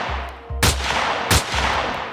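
Gunshots in a documentary recreating the Kennedy assassination: two sharp, loud cracks roughly 0.7 seconds apart over a low rumble, followed by further lower thuds.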